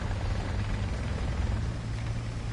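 A helicopter in the combat game War Thunder drones steadily, a low, rumbling rotor hum that holds constant throughout with no break or shift.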